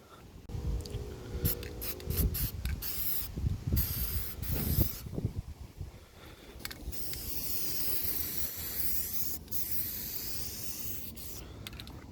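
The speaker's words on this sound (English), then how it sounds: "So just priming the welds for now will do" Spray can priming fresh welds on the mini tubs of a 1973-91 Squarebody GM truck, with short rattling can shakes followed by a long steady hiss of spray close to the microphone.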